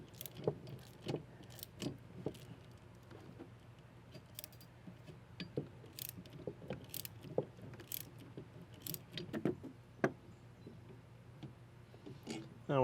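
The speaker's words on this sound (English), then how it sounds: "then you'll use a pass-through socket or a wrench to loosen the nut" A pass-through socket or wrench loosens the sway bar end link nut on a 2015 Subaru Outback while a 5mm hex holds the shaft: irregular close metallic clicks, clinks and ratcheting taps over a low steady hum, with no talking.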